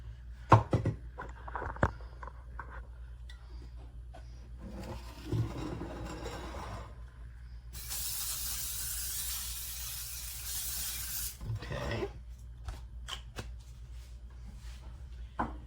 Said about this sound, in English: I'm going to spray it with some spray.